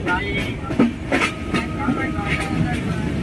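A passenger train on the Darbhanga to Kolkata route rolls along the rails with a loud, steady rumble and rhythmic clickety-clack of wheels, while a voice talks over the noise.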